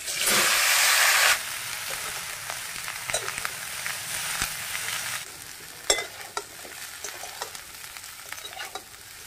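Cauliflower frying in hot oil in a wok, a loud burst of sizzling as the florets go in that settles into a steady crackle with occasional sharp pops and light stirring clatter.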